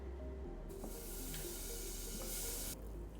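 Butter hitting a hot pot on medium heat, a sudden bright hiss that holds steady for about two seconds then cuts off, close and fairly loud.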